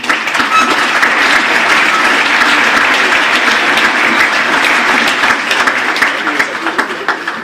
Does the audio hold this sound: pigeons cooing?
no